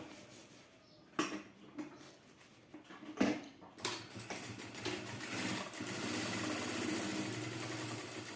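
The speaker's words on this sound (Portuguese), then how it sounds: "vou passar a costura pra não sair nada do lugar" An electric sewing machine stitching a seam through fabric for a clutch bag, its motor whirring steadily in a sustained mechanical run after a few scattered handling knocks.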